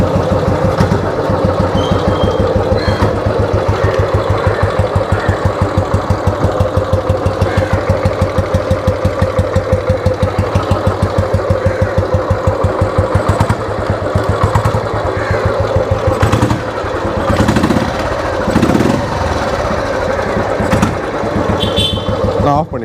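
A fully restored vintage Royal Enfield Bullet motorcycle idles with a steady, rapid single-cylinder thump that stays close and loud throughout, with brief talk over it near the end.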